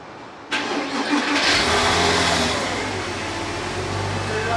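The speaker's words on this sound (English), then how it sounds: "And I'm gonna turn on the car and then see" A Porsche Boxster engine cranks and catches after a brief pause, then settles into a close, steady idle with no one talking.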